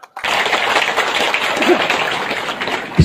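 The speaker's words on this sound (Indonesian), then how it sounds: "Tepuk tangan dulu." Audience applause at an Islamic religious lecture, a dense, steady wash of many hands clapping for about three seconds, starting abruptly and staying loud throughout.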